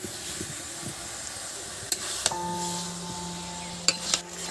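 Young jackfruit sautés in a pan on a clay stove with a soft, steady sizzle, broken by a few sharp utensil clinks and scrapes against the pan.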